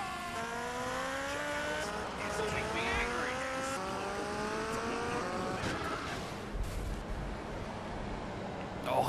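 A motorcycle in the video game GTA Vice City revs with a steady, rising engine whine while its tires squeal and skid repeatedly, loud and continuous throughout.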